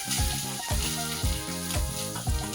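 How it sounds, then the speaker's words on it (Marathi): Freshly grated coconut fries in hot ghee with a loud, continuous sizzle, while a repeating tonal pattern plays steadily over it. "एक चम्मच तूप टाकायचे हे गरम झालं की याच्यात आपल्याला खोपरा टाकायचं आहे हे ताजा किसलेला खोपरा आहे"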